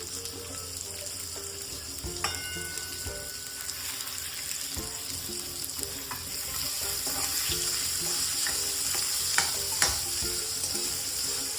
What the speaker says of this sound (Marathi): नंतर घालायचं आहे कांदा, जे आपण 2 बारीक केलेले कांदे आहेत ते घालायचे।